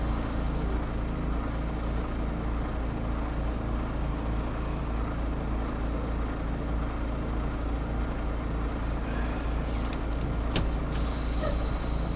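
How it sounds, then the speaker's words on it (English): Air brakes on a truck hauling a tandem trailer release during a delivery stop in Manchester, Pennsylvania, with a short sharp hiss near the end over a steady, loud idling rumble. "Brakes were a little bit slow to release."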